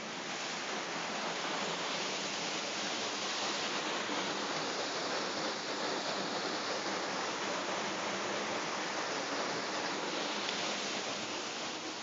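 Waterfall roaring as a dense, constant rush of water, steady and full for the whole stretch, with no other sounds standing out.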